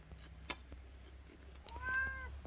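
A cat meows once in a short, rising and falling call near the end, heard close up in a quiet room with faint background rumble.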